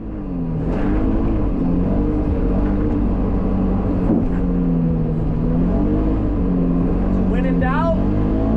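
A side-by-side UTV at full throttle in Michigan's Upper Peninsula, its engine droning loud and steady with rising and falling pitch as it powers along, close up throughout.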